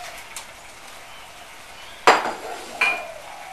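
A spoon clinks against a pan while baked butternut squash is stirred into green tea risotto, with one sharp scrape followed by softer clinks and a faint background hiss.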